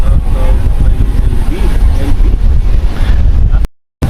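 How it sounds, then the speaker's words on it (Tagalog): Strong wind after rain roars and buffets steadily against the microphone, a loud continuous rumble that cuts out abruptly near the end. "Kaso malakas pang hangin masyado."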